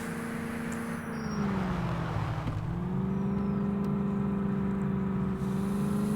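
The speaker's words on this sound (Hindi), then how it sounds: "फिर मैं अपनी गाड़ी 120 में भगाता हूँ और चल देता हूँ।" Car speeding up to about 120 in the driving game Indian Vehicle Simulator, a steady engine drone that dips in pitch, then climbs and holds, close and continuous with no talk.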